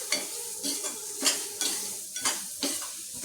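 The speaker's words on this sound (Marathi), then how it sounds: "रवा एकसारखा तांबूस रंगावरती भाजला गेला आहे" Semolina roasting with mashed banana in a pan, stirred with repeated scraping strokes in a loose rhythm over a faint dry sizzle, near and fairly quiet, no speech.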